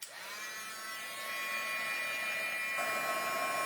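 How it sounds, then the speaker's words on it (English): A handheld heat tool dries craft materials, blowing a steady, loud, close-up whooshing hum that grows slightly stronger partway through. "So I'm gonna grab my heat tool for a sec and just dry all of that."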